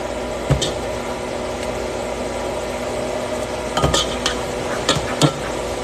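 Onions stirred in a pan on the stove, a low steady sizzle underneath with a few sharp scrapes and clinks of the utensil against the pan scattered through, no talking.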